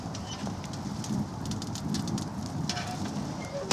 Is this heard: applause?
no